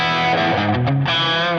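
A distorted electric guitar chord through Neural Amp Modeler with EQ rings out with thick, gritty tone and slight swirling modulation, loud and alone.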